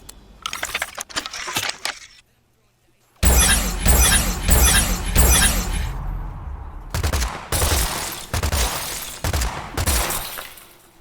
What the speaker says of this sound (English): the ice explosion sound effects working there in conjunction with those icicles bursting